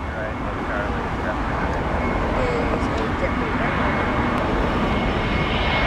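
A JetBlue airliner passes at Boston airport, its engine roar a steady, loud broadband rumble that holds throughout, with airport and road noise mixed in.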